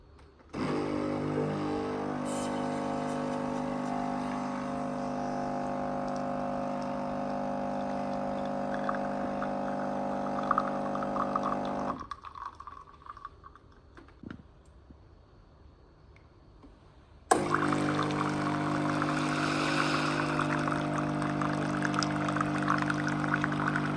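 Hot water pours steadily from a hotel tea and coffee machine in a Dubai airport hotel room, a loud continuous machine hum and stream that pauses briefly midway, then resumes just as strongly.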